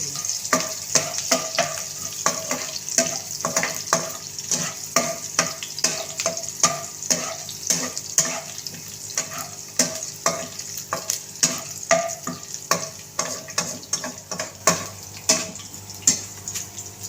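Chopped onions fry in hot oil in a pan for fish curry, a steady sizzle under a rapid, rhythmic scrape of stirring that repeats evenly throughout, close and fairly loud, with no talking.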